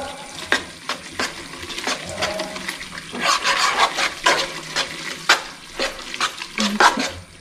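Spicy noodles are stirred and tossed in a cooking pan, with repeated scraping and clattering against the metal over a soft sizzle, steady and close throughout.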